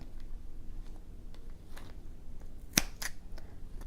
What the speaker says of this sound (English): These are good scissors, and I'm still having to do little snips.